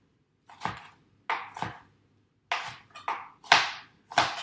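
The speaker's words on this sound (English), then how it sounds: "I'm going to line those up and then give those a coarse chop" Knife coarsely chopping bell peppers on a board, a few quick strokes in short bursts with pauses between, close and fairly loud, for a panzanella salad.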